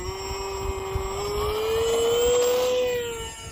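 A HobbyZone Aeroscout S radio-controlled model airplane flies overhead, its electric motor and propeller giving a steady high-pitched whine that rises slightly in pitch and loudness, then eases as it passes, over light wind noise.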